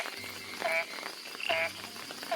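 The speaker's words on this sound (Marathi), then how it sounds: "बेडकाचा आवाज आहे हा." Frogs croak near flowing water as rain begins, a steady run of short, repeated calls about once a second, moderately close, over a soft wet background with no talk.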